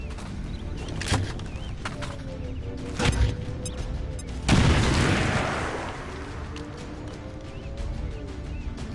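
A grenadier unit fires explosives in a video game, with sharp blasts around one and three seconds and a bigger booming explosion near four and a half seconds that fades out, all loud and close without speech.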